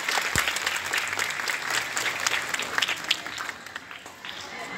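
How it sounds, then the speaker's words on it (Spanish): Audience gives a loud, sustained round of applause for an honoree at an event, dense clapping throughout with a few cheers and voices mixed in. "Un fuerte aplauso para este titán"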